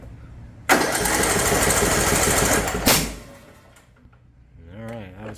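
A small engine that has been backfiring and dying starts abruptly and runs loud at half throttle for about two seconds, ends with a sharp bang, then falls quiet while a voice talks faintly.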